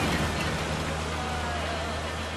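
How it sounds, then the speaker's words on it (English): Steady rain falls in the Metal Gear Solid 5: Ground Zeroes video game, a continuous broadband wash of drops with a low rumble beneath, filling the whole stretch without pause. "They're driving off in the rain. I like the rain."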